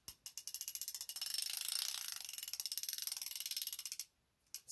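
A Husky ratchet wrench from a mechanics tool set clicks rapidly and steadily for about four seconds, a close, crisp stream of pawl ticks with a short pause and a final click at the end.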